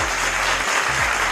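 A short burst of canned applause: dense, steady clapping that fills about a second and a half at an even, fairly loud level.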